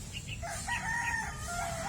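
Texas gamefowl roosters crow on a small farm, one drawn-out cock-a-doodle-doo carrying over a faint rumbling background, with brief clucks before it; moderately distant and fairly quiet.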